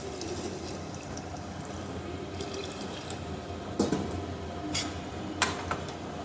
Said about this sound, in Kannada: ನಮಗೆ ಸಾರಿಗೆ ಎಷ್ಟು ಬೇಕೋ ಅಷ್ಟು ನೀರು ಹಾಕ್ಕೋಬೇಕೀಗ